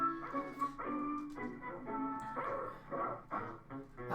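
A dog barks and yips repeatedly in a film scene set in a chase with Santa, the barks coming in bursts over a steady musical and voice background.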